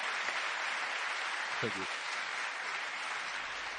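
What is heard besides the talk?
audience applause at an awards ceremony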